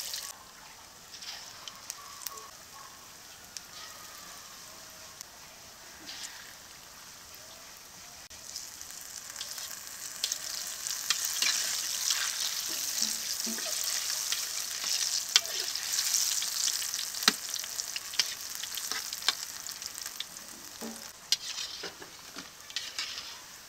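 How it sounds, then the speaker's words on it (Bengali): Cauliflower pakoras deep frying in oil, a continuous crackling sizzle that grows louder and busier partway through, with occasional sharper pops and scraping stirs. "এখন তেলে ভেজে পকোড়া তৈরি করে নেব।"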